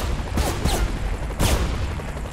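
Gunfire aimed at cars in the video game Saints Row The Third: a few loud, sharp shots in quick succession, then a pause and another strong blast, over a steady background rumble.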